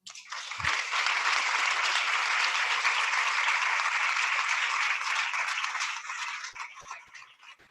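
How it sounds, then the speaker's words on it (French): An audience breaks into sustained applause at a plenary session, a broad steady roar of many hands clapping that holds for several seconds before thinning out toward the end. "celles qui sont là vont avoir nos applaudissements"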